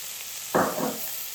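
Fish curry with green chillies and chopped tomatoes stirred in a pan, a single brief burst of scraping and sizzling over a quiet background hiss, no speech.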